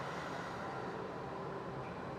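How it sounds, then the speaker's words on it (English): A train passes as a faint, steady low rumble with a drawn-out drone, heard from a distance and quiet overall, with no talking. "whoa, there goes the train"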